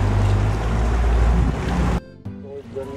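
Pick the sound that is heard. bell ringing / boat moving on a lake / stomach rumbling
boat moving on a lake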